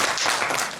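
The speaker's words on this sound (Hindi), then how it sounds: "जिन्होंने भाग भी लिया उनके लिए भी जोरदार तालियां हो जाए।" Audience applause at a Hindi stage play, a dense steady burst of clapping from a gathered crowd, loud and close, lasting under a second with no voices on top.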